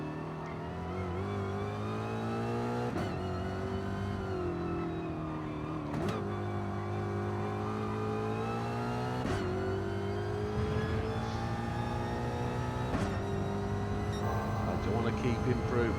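A high-revving Alpine Vision Gran Turismo race car in Gran Turismo 7 at Kyoto Driving Park, a steady loud engine whine climbing through the revs with sharp breaks at each gear shift, with someone talking over it.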